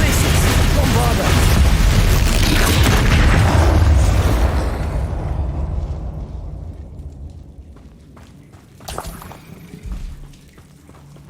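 A Bombarda spell explosion in the Hogwarts Legacy video game erupts in a loud, close roaring blast that rumbles for several seconds and decays, followed by a few smaller thuds and impacts.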